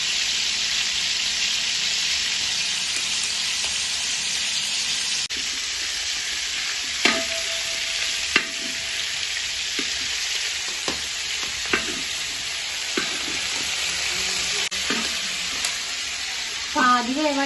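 Chicken pieces sizzle in a pan for homemade dum biryani, a continuous loud frying hiss punctuated by repeated sharp clinks of a stirring spoon and a brief splash near the end.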